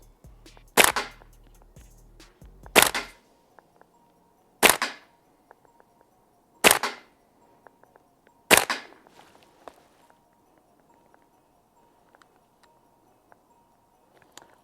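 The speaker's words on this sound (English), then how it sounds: "30 gram BBs, Puff Dyno high power gas, going for alpha shots all the way down the back, center mass." An HK416D airsoft gas blowback rifle with a HAO Industries MWS conversion kit fires 0.30 g BBs on high power gas as five sharp, separate cracks about two seconds apart, each with a short mechanical clack, then quiet.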